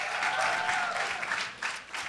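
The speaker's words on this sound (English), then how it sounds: "Give him a round of applause." Audience applause at a summer networking panel event for interns and creatives, a steady wash of clapping held at moderate level for about two seconds, with no talk.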